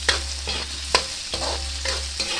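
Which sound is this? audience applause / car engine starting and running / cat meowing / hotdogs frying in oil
hotdogs frying in oil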